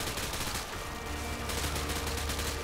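Rapid gunfire from the shooter Call of Duty: Modern Warfare 2 crackles in a steady automatic stream, dense and continuous, heard quietly with a low rumble beneath and no talk.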